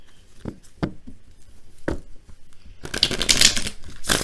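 Tarot cards are shuffled in quick riffling bursts, sharp flutters that grow denser and louder toward the end, with no one speaking.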